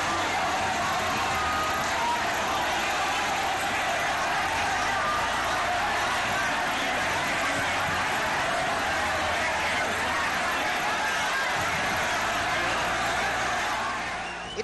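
A dense, steady roar of a huge crowd packed together at Bandra railway station in Mumbai, a constant babble of many voices with no single sound standing out.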